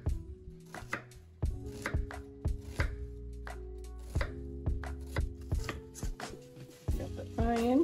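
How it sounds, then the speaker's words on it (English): Knife chopping baby carrots on a cutting board, a series of sharp, close thuds in an irregular rhythm, some quick pairs and some spaced apart. "I'm gonna cut these carrots just a little bit."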